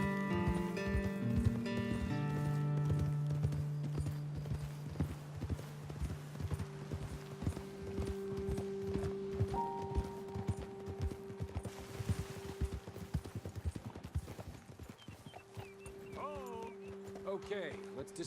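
Horses' hooves clip-clopping steadily as riders travel in the video game Red Dead Redemption 2, with music and voices over the hoofbeats throughout.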